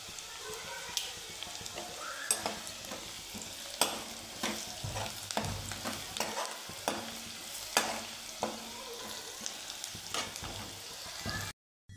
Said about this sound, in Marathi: बटाटा परतून घ्यायचा आहे आता यामध्ये थोडी हळद घालतो